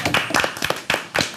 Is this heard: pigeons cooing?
no